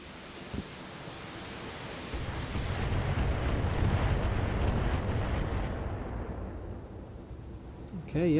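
An ammo explosion in the BattleTech mech game: a broad, heavy rumbling roar that swells over several seconds, holds loud and dense, then slowly fades into a low tail, with a fresh burst at the very end.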